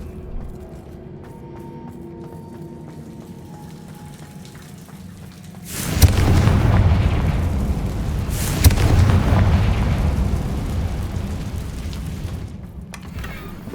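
A Confringo blasting spell explodes in Hogwarts Legacy, a sudden loud, broad boom that rolls into a long crackling, rain-like rumble with a second burst partway through, heard close after a quieter ambient stretch, with no talking.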